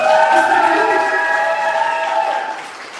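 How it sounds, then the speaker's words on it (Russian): Audience applause for the fans at a school graduation pageant, a steady wash of clapping and crowd noise with some cheering, filling the hall for about three seconds before easing off slightly at the end. "Сами себе поаплодируйте, болельщикам"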